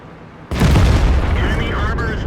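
A tank cannon in World of Tanks fires with a sudden loud boom, followed by a sustained roaring rumble that fills the rest of the moment.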